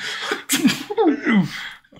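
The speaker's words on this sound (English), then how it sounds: "sneezes, blowing out the makeshift candles" A single sneeze bursts out near the start, followed by a short voice and a brief exclamation, then quiet.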